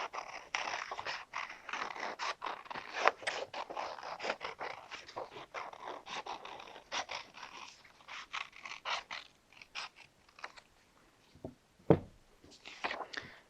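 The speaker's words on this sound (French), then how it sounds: "nous allons découper bien sur le cercle avec des ciseaux tout au long de la ligne que nous avions tracée au début" Scissors snip around a traced circle in paper during a children's snow-themed Christmas craft, giving soft, close, irregular crunching cuts with brief pauses and no talking.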